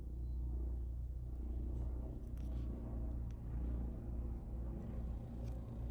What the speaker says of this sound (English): That was a helicopter or an aeroplane.